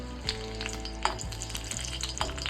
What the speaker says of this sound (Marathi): छान तेल तापलेलं आहे तर आवाज आलेला आहे सगळ्यात आधी मी लसणाच्या पाकळ्या आणि आल्याचे तुकडे टाकले